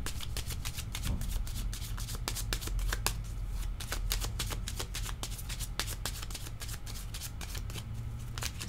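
Tarot cards shuffled continuously for a reading, a steady rapid riffle of crisp paper flicks, close and moderately quiet, with no talk.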